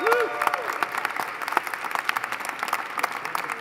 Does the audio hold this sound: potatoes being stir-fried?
no